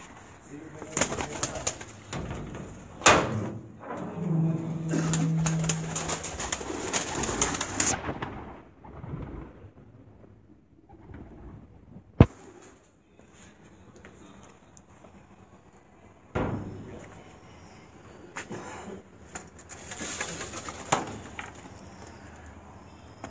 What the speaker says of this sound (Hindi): कबूतरों का मैं आपको शौक करवा रहा था